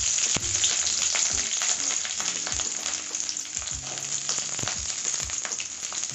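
Cubed onion frying in oil for chilli snake gourd, a loud, continuous close sizzle with crackles and occasional stirring clatter throughout.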